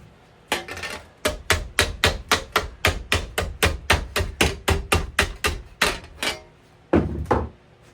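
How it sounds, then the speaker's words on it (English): A hammer strikes metal again and again while a skillet is being forged outdoors: a steady run of sharp, loud, evenly spaced blows close by, a short pause, then a last pair of hits, with no talking. "Using my hammer in ways I probably shouldn't."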